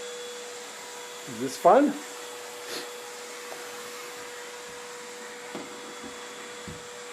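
A household vacuum cleaner runs with a steady, even hum while a child cleans around a bed at home; voices of an adult and someone talk over the motor.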